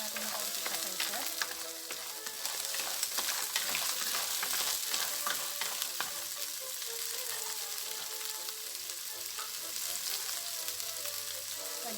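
Clams going into a pot of tinola-style clam soup, a soft steady sizzle with light stirring clatter, quiet and close, with a little talk over it.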